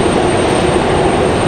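A Southwest Airlines Boeing 737-700 jet at Raleigh-Durham airport, a loud, broad engine roar that holds steady and close for the whole moment.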